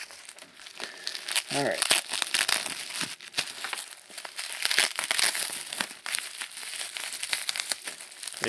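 Bubble wrap crinkling and rustling near the microphone while a Nintendo DS Lite in cobalt and black is unpacked, a busy run of crackles and crumples throughout, with a person briefly speaking over it.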